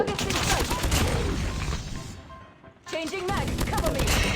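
Rapid bursts of Call of Duty Mobile gunfire and explosions rattle loudly, pausing briefly before resuming, with excited voices talking over the shooting.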